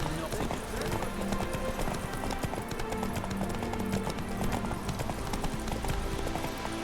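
Roach, a horse in The Witcher 3 video game, gallops with quick, steady rhythmic hoofbeats under a game soundtrack, with voices talking over them.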